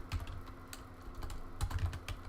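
Keys clattering on a computer keyboard as a file name is entered, a few quick soft clicks in short bursts, close up and quiet with no talking.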